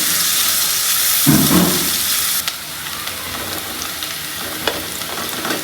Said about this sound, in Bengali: সর্ষার তেল দিয়ে রান্না করতেছি পেঁয়াজটা একটু লাল লাল হলে আমি আলুটা ছেড়ে দেবো